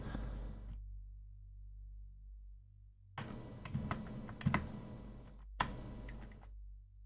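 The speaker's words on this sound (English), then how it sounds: "Just tapping the keys here." Computer keyboard keys tapped during a Kerbal Space Program session, with two bursts of clicky typing separated by a quiet pause, close and moderately loud with sharp individual keystrokes.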